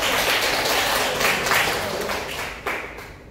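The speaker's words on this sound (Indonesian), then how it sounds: "tepuk tangan dong buat Mas" Classroom applause during a micro-teaching lesson, a short burst of many hands clapping together, loud at first and then fading off, with a final stray clap near the end.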